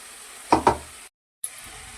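Spice paste of cumin powder, coriander powder and tomato paste sautéing in a pan for katla fish curry: a steady close sizzle with two sharp stirring knocks, briefly cutting out before resuming.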